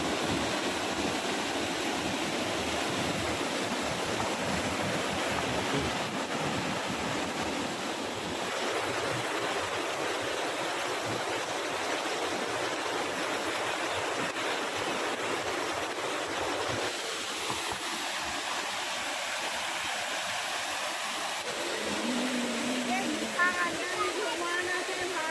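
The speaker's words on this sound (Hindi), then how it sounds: "देख सकते हैं कल कल करके पानी।" Water pours steadily at Ghaghari Dham waterfall near Bero, Lapung, a broad, continuous rushing roar close by that holds for the whole stretch, with a voice faintly present at times.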